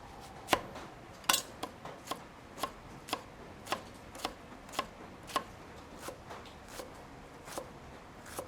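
A knife finely chops onion on a cutting board: about sixteen crisp, evenly paced strikes, close and clear against a quiet room, with no voices.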